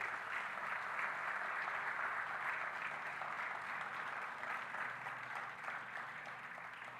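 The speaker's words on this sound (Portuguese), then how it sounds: "Você pode aplaudir a Deus pela palavra?" Steady applause from a church congregation, a continuous wash of many clapping hands heard at a distance, holding evenly and easing slightly near the end.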